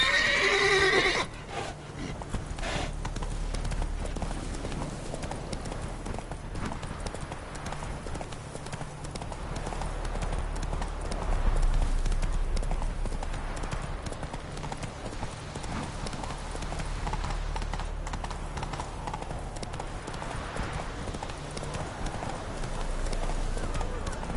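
Roach, Geralt's horse in The Witcher 3, gallops with steady rhythmic hoofbeats throughout, a loud neigh breaking out near the start over a constant low game soundscape.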